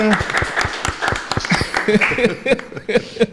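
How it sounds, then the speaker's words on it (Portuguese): Audience applause for a pastor at a church gathering, brief scattered clapping that rises under a speaker's ongoing talk and fades as speech takes over. "Palmas para o pastor."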